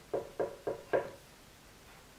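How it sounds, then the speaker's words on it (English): Four evenly spaced, solid knocks on a door, close and fairly loud, then quiet. "he looked at the house and he knocked again."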